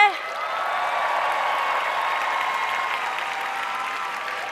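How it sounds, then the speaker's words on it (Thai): A political audience gives sustained applause, a steady even wash of many hands clapping at moderate volume from a distance, alone without talk. "ขอเสียงปรบมือให้พวกเขาหน่อย"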